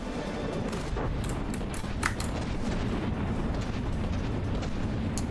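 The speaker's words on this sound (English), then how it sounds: "Mortars are coming down too." Mortar shells come down in the naval battle game From the Depths, a dense rumbling barrage of booms and crackling blasts, continuous and loud with a few sharper pops standing out.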